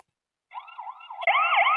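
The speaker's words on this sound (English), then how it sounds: "There's a siren that you can put on." A COCOCAM 2K indoor security camera's built-in siren wails indoors, starting with a softer warbling tone that abruptly jumps louder into a rising and falling electronic alarm.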